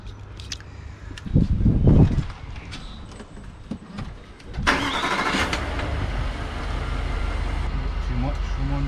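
A Range Rover L405 engine cranks and catches at mid-clip, then settles into a steady idle; before the start there are low thumps and clunks.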